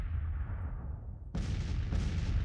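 Artillery in a Peninsula Campaign battle game firing on skirmishers, a deep rumbling boom fading out, then a sharper loud blast at about 1.3 seconds and another shortly after.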